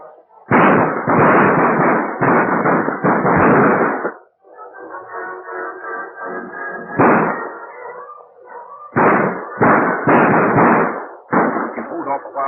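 Gunfire from a shootout in an old Western film, with bursts of loud, close shots in rapid clusters, a lull filled by music and shouting voices, then more volleys of shots.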